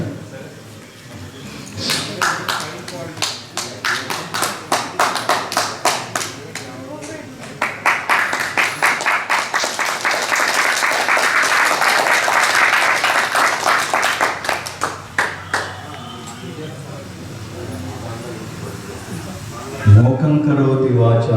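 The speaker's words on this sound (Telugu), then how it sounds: "చప్పట్లు కొడితే కొండ కింద వరకు వినపడాలి." An audience at a spiritual discourse claps loudly in quick rhythmic bursts, then in a long sustained run of dense clapping that fades out, before a voice comes in at the end.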